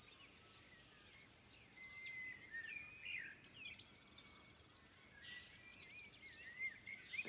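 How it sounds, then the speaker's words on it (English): Birds sing and chirp at sunrise on a ranch, a busy chorus of overlapping tweets and trills at moderate distance, faint but continuous, with insects buzzing softly underneath. "The birds are singing."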